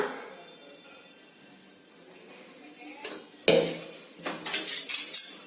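Mint rice is mixed in a pan with a metal spoon, bringing quiet scraping that builds into louder clanks and clinks of utensil against the pan toward the end.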